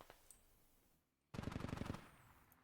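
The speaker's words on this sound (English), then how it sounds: "I think that artillery is not the Russian artillery." Rapid burst of automatic gunfire in a military video game, about a dozen sharp evenly spaced shots after a short lull, preceded by a couple of faint distant pops; moderately loud with no talking.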